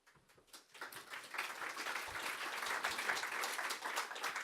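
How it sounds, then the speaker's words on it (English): An audience claps for a presenter at a conference session on e-government applications; the clapping starts sparse and builds into soft, distant applause, quiet throughout. "Don't clap too early, you haven't heard anything yet."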